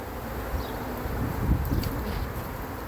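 Dense, continuous buzzing of a swarm of bees close by as they are collected into a box, a steady hum with faint rustling underneath.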